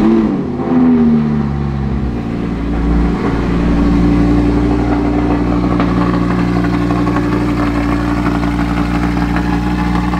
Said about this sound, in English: the cold start was fairly loud